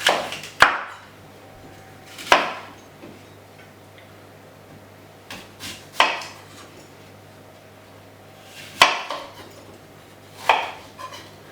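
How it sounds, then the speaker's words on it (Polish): Sharp knife chops quartering apples land on a board at irregular intervals, about six distinct cuts with quiet pauses between them, close and fairly crisp. "Jabłka pokroimy w ćwiartki."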